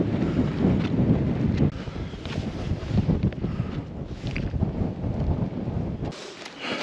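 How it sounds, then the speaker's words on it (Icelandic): Strong, gusting wind on Esja mountain in Iceland buffets the microphone with a loud, continuous roar that swells and eases over several seconds, then drops away sharply near the end. "Hvasst stundum og stundum ekki."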